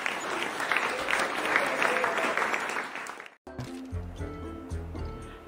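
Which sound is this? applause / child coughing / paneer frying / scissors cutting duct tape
applause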